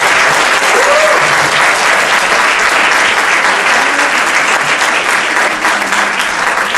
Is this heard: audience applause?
yes